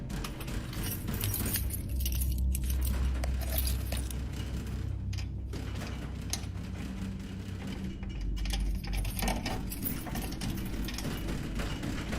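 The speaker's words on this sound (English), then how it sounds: "rushing to unlock the front door with his keys" Keys jangle steadily as a front door is hurriedly unlocked, a continuous close metallic rattle over a low rumbling background, with no speech.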